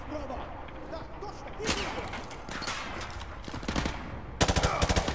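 Automatic gunfire from the video game Call of Duty Modern Warfare 2, with a short volley early on, then a dense, loud burst of rapid shots near the end over a busy game background.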